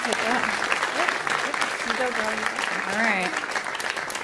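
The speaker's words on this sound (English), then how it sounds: "Let's give them a round of applause." Audience applause at a live storytelling event, steady clapping filling the room with voices talking over it throughout.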